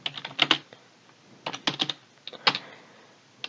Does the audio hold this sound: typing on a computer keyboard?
yes